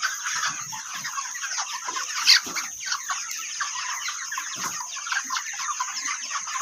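A flock of 33-day-old broiler chickens that have stopped eating clucks and murmurs continuously, with a steady high hiss over the scene and no talking.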